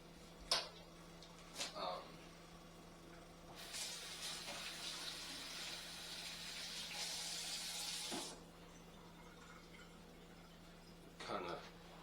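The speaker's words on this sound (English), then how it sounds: "kind of rinsing my hand off there real quick" Water runs from a kitchen tap for a few seconds as a hand is rinsed, giving a soft, steady hiss in a quiet room that starts and stops abruptly, with small clicks and knocks before and after.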